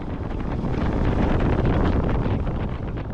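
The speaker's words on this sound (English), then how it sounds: "It's a bit windy here." Strong wind buffets a microphone up in the mountains of Vietnam, a loud, steady broadband roar with gusting flutter that holds for the full few seconds, no talking.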